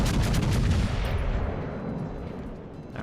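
Battleship naval gunfire in World of Warships: Legends, a heavy booming salvo that rumbles loudly at first and slowly fades into a low roar, with a new blast starting at the end.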